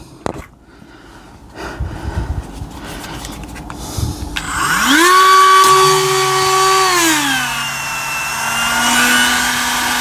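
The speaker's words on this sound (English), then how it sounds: "he'll take the Dremel and he'll just give that a light Dremel" A Dremel polishes a worn part on a classic Gottlieb pinball playfield, starting with a few clicks and handling, then a close, loud high-pitched whir that rises, holds, and drops to a lower steady spin.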